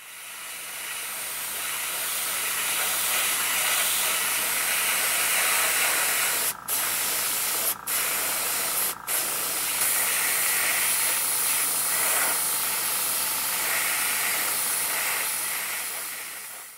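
AK chipping fluid is sprayed onto a model tank as a steady, close hiss of fine mist. It runs almost continuously, broken by three brief gaps in the middle.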